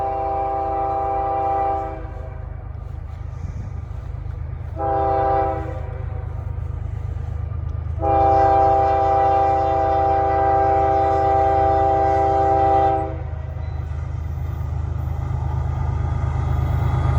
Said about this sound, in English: here's the CSX westbound